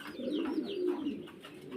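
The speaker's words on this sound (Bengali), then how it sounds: "এখানে দেখেন একজোড়া কোকা আছে দুইটা বাচ্চা সহ" Pigeon cooing from a pair of Koka pigeons kept with two chicks, a close, steady run of soft throaty coos that carries on without a break.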